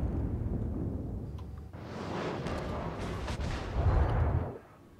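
Battleship Tirpitz guns firing in a naval video game, a loud broad roar of a salvo building over a couple of seconds with a deep rumbling tail, no talk over it.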